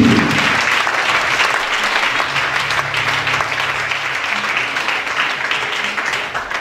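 A church congregation applauding for Jesus, sustained dense clapping from a large crowd, loud and steady throughout with no break.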